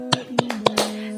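A quick run of five sharp hand claps by kindergarten children in a lively rhythm, with a faint steady tone underneath.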